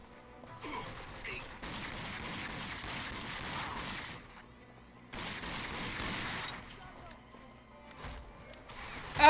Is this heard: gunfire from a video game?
yes